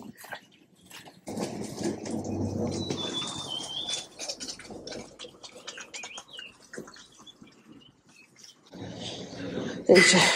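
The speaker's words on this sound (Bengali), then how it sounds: "আর খালি আওয়াজ পাখির এই জায়গাটাতে" Birds chirping and calling at a distance through steady outdoor background noise in Paro, Bhutan, with a few clear whistled notes and faint voices or movement underneath.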